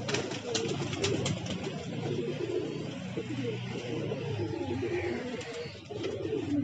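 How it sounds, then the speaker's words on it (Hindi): Pigeons coo softly and repeatedly against a steady background murmur, with no voices heard. "तो ये है वो कबूतर"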